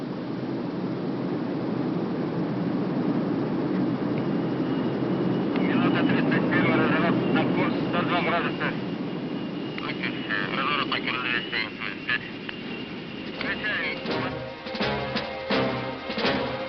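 A Soviet military transport aircraft carrying paratroops drones steadily in flight, a loud continuous engine roar heard from inside, with someone narrating over it and radio chatter later on.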